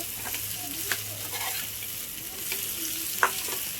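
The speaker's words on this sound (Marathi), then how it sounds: "आता हे छान व्यवस्थित आपण हे मिक्स करून घेऊ" Spiced potatoes being stirred in a frying pan, a steady sizzle with a few scraping spoon strokes and one sharper clink near the end, close and moderately loud with no talking.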